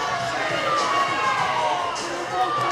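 A high school hockey crowd at a Fort Collins versus Dakota Ridge game cheers and shouts in a sustained arena roar, with scattered whistles and voices mixed in and steady moderate loudness.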